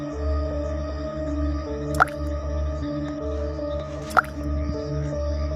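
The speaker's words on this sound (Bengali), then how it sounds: "হঠাৎ ফোঁটা ফোঁটা পানি পড়ার শব্দে" Water dripping drop by drop in a narrated story setting: two distinct, sharp drip plinks land about two seconds apart over a steady, low, droning musical background.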